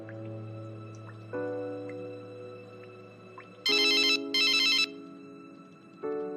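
Phone ringtone sounding indoors: a sustained electronic melodic tone that steps through pitches, broken by two bright bursts of trilling ring, close and clear, with no talking.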